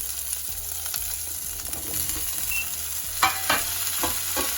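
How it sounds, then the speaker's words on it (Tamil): Thumbangai vegetable tossed with onion in a pan over heat, giving a steady sizzle with scraping stir strokes and a few sharp knocks of the spoon against the pan near the end. "என்னோட தும்மங்காயம் வதக்கத்தானே போகிறேன் அதனால் இப்போ தும்மங்காயம் போடுறேன்"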